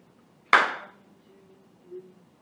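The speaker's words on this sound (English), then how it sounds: "Yep, just 1 clap for the entrance." A single sharp hand clap from a student marking a whole-note entrance, loud and close, its short ring fading into a quiet room with a faint low hum.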